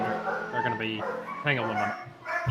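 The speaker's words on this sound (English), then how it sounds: "sorry about the dogs in the background" Dogs bark, yip and whine in the background of a home setting while a person talks over them, the canine sounds mixed closely with the voice.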